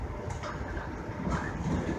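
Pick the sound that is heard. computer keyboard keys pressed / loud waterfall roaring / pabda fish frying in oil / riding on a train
riding on a train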